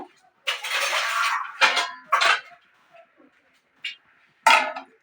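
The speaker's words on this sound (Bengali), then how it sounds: "এটাকে ভালো করে আমি একটু মিশিয়ে দিয়ে একটা ঢাকা দিয়ে দেব" Jackfruit being mixed in a metal pot, then covered with a lid, a few close, loud bursts of clattering metal scrapes and knocks separated by silent gaps.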